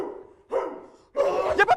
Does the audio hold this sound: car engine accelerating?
no